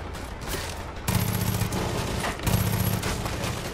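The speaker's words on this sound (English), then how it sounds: "They give you grenades in this game" Grenade blasts and bursts of gunfire in the first-person shooter Far Cry 5, loud and dense, with two heavy surges of rapid firing and explosions a second or so apart.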